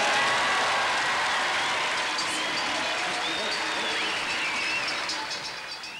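Large crowd applauding a ski champion at the finish: steady, dense clapping that tapers slightly at the end, with a voice talking over it.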